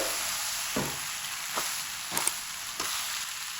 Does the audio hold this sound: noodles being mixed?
yes